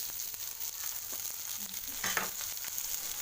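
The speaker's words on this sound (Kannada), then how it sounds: "ಇದು ಚೆನ್ನಾಗಿ ಫ್ರೈ ಆಗಿ ಈರುಳ್ಳಿ ಹಸಿ ವಾಸನೆ, ಟೊಮಾಟೊ ಸ್ವಲ್ಪ ಮೆತ್ತಗೆ ಹಾಕಬೇಕು." Onion and tomato frying in a pan for an idli side dish, a steady close sizzle and crackle with a few faint stirring scrapes, no voices.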